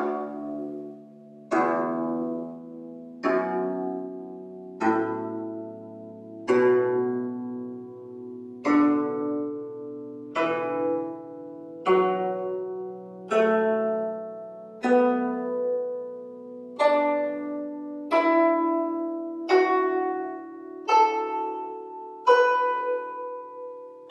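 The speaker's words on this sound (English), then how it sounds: "Your Guzheng should sound like this." Guzheng tuned to a D pentatonic scale, plucked one string at a time in a slow, even series of about fifteen notes, each ringing bright and decaying, climbing gradually in pitch with no voices.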